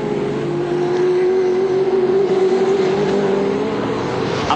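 Touring race cars from the 1997 Australian Touring Car Championship round at Calder Park roar steadily past together, a loud, sustained engine drone with a rising pitch and no break, heard alone without talk.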